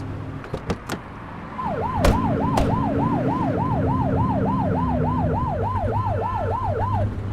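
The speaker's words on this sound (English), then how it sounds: "Turn that siren off." A police car siren in a police video game wails in a fast, steady up-and-down cycle over engine and road noise, loud and continuous after a few faint knocks.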